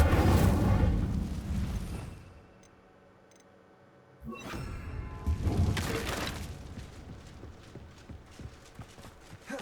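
Incendio fire spell cast in Hogwarts Legacy, a loud whooshing burst of flame that fades to near quiet, then another rushing blast and crackling tail.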